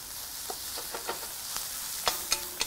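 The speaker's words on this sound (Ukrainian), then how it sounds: "на великій температурі, поджарюємо овочі" Vegetables and onion fry in a pan over a campfire, a continuous soft sizzle broken by sharp clinks and scrapes of stirring.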